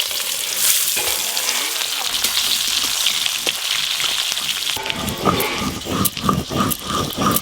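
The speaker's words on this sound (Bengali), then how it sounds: "মাছগুলো ভাজা করছি, পুরো ইলিশ মাছের মতো গন্ধ বেরোচ্ছে।" Small river fish frying in oil, a loud, continuous close sizzle with crackling spatter, turning to rhythmic stirring scrapes and bubbling toward the end.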